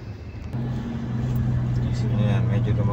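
Road traffic with cars idling and creeping along, a steady low engine drone and hum throughout, with voices talking over it.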